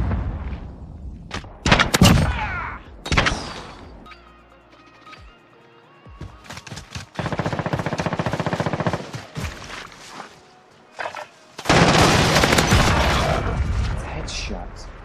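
Bursts of automatic and single gunfire in a Call of Duty Modern Warfare 2v1 gunfight, loud sustained volleys separated by short pauses, with players talking excitedly over the shooting.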